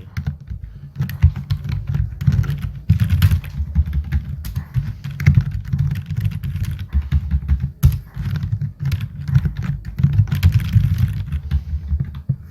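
Computer keyboard typing while entering code, a steady run of close, fast key clicks with brief pauses, no talking.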